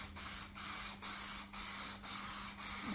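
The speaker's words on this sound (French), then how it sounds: "Donc le fixatif en bombe aérosol que nous passons de cette manière-là." Aerosol fixative sprayed from a can onto leather in a repair job, heard as a regular series of short, close hissing bursts, each about half a second long, separated by brief pauses.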